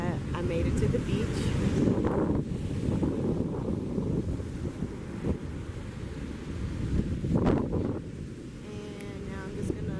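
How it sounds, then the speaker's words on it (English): Blustery wind buffets the microphone at a beach, with a steady low roar of surf and open-air rumble running throughout the scene and a few brief gusts swelling louder. "I made it to the beach"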